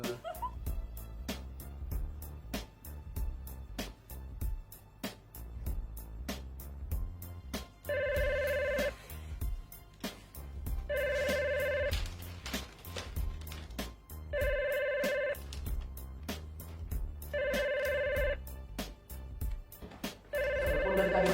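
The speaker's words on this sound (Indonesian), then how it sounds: "Telepon dari tadi bunyi nggak ada yang ngangkat sih." Office telephone ringing unanswered, a repeated pattern of bright bell bursts spaced a couple of seconds apart over a steady background beat, moderately loud.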